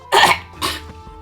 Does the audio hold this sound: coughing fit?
yes